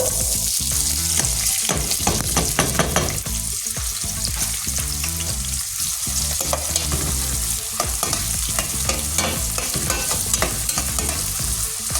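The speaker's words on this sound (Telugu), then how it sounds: "ఇప్పుడు ఇవన్నీ నూనె వేడెక్కింది కదా పెట్టాను నేను ఉల్లిపాయలు కూడా వేసేస్తాను" Chopped onions fry in hot oil for a kudra curry, giving a dense, loud, continuous sizzle close up, broken by the scraping clatter of a stirring spoon in the pan.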